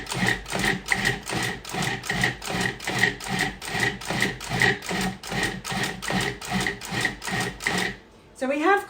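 Food processor pulsing keto coconut flour pie crust dough in a home kitchen, a steady run of rapid mechanical bursts for about eight seconds, then a brief pause before a short whirring restart.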